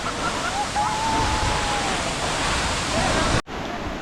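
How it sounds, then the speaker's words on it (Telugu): Fast, heavy-flowing waterfall beside a smaller fall in Mana village, its steady close roar filling the air without a break until a brief cut near the end. "మనకు ఆ వాటర్ ఫాల్ పక్కనే ఈ చిన్న వాటర్ ఫాల్ ఉంటుంది మాకు"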